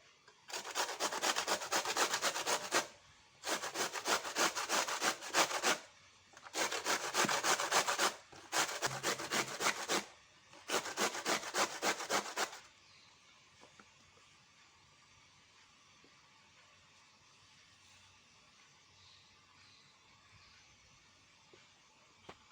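Peeled white radish rubbed against a hand grater, heard as five long, loud rasping bursts of steady scraping up close, each separated by a short pause, before the sound gives way to a quiet room.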